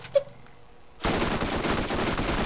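Gunfire from the video game Borderlands starts after a second of near silence and turns into a dense, continuous rattle of rapid shots that runs to the end.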